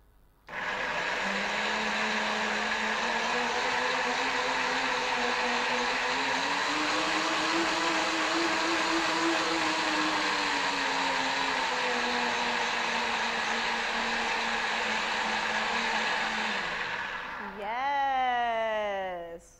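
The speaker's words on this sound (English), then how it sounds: "I'm gonna see if this blender will just make this into a liquid without me adding water" A blender motor whirs steadily at high speed, loud and close, its pitch wavering slightly before spinning down at the end.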